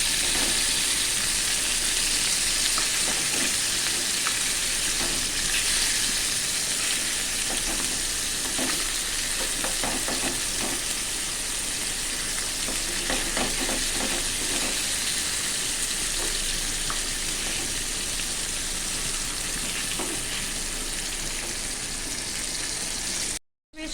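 Fish frying in oil in a pan on a gas stove over lowered heat, a steady dense sizzle with crackling pops running continuously and fairly close, with no talk over it.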